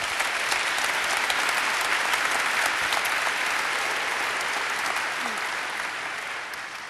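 A large audience of students, gathered for an event in Finland, claps in sustained, dense applause that stays loud and even throughout and fades slightly toward the end.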